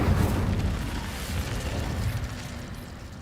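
A broad, roaring whoosh of flame from the Incendio fire spell in Hogwarts Legacy, sustained and loud for about three seconds with a slight fade toward the end.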